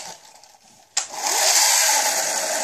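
A stunt bike engine revs up sharply after a quiet moment, then holds a loud, steady high-pitched whine close by.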